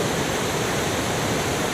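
Water released from the Vazhani dam gushing out in a steady, loud, broadband roar that holds without pause, with no voices over it.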